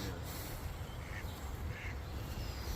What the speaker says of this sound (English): Oh, our ducks just landed.